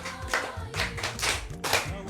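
Hands clap about four times in a steady rhythm, crisp and close, for Lala, with a low voice murmuring underneath.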